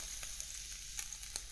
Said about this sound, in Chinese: 这回就直接搁我这个多功能的电饼铛里边，一煎，一翻盖就行了